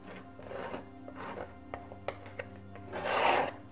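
Palette knife scraping and rubbing acrylic paint across canvas during a seascape painting, a series of soft rasping strokes with a few sharp ticks, ending in a louder, longer scrape.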